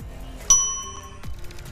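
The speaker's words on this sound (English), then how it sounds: "ding that notification bell" A single bright bell ding rings out sharply and decays, followed by a softer knock-like sound, with no talk.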